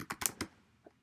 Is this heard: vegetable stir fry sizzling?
no